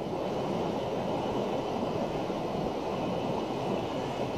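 Tirlyanka river in spring flood, a broad, steady roar of high water rushing past, loud and continuous without a break and with no voices.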